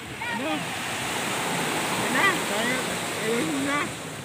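Strong surf rushing at a beach, a steady loud wash of water that swells slightly at moments, with people talking and shouting over it throughout.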